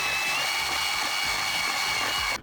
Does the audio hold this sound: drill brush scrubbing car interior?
yes